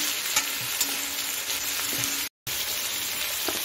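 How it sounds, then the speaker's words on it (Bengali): Sweet potato, white potato and carrot fry in oil in a pan, producing a dense, loud, continuous sizzle close by with occasional stirring clinks, briefly cut to silence midway, and no voices. "মিষ্টি আলু, সাদা আলু আর গাজরটা দিয়ে দিচ্ছি, কিছুক্ষণ আমি আলু গাজরটাকে একটু ভেজে নিচ্ছি"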